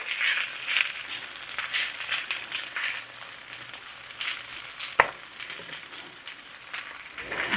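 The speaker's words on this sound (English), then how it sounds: "And this should fry very quickly." New York strip steak frying in a pan, a dense, continuous sizzle and crackle heard up close, with a sharp tap or clank partway through and no talking.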